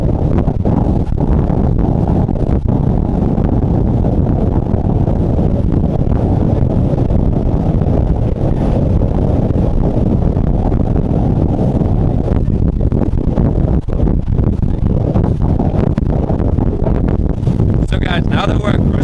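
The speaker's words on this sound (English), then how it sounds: "we're just gonna show you how easily this boat cuts through all the chop" Loud roaring rush of a Hammer Cat 35 boat with Cox 350 diesel engines running over choppy water, heavy wind buffeting the microphone, constant and close, with faint voices in the mix.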